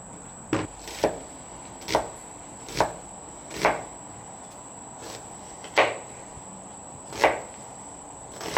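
A knife chops through an onion on a cutting board at a camp cooking setup, giving about nine crisp, evenly spaced cuts at an irregular, unhurried pace, close and clear with no talking.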